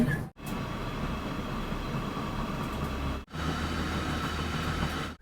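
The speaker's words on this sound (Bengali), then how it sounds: "এবার ট্রেন ঢুকলো আসানসোল" A Rajdhani express train rolls into Asansol station, its carriages giving a steady, fairly quiet rumble and rattle with no talk, broken by two short dropouts.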